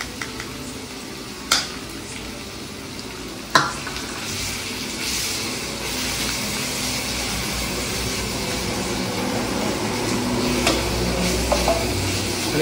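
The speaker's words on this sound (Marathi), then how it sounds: "जे वाटण काढून घेतलं होतं मिरची आलं लसणाचं, ते या ठिकाणी आपण तेलामध्ये व्यवस्थित फ्राय करून घेऊया." Green chili, ginger and garlic paste sizzles in hot oil in a home kitchen for Chinese noodles, a steady close frying hiss punctuated by a couple of sharp spoon-on-pan knocks while being stirred.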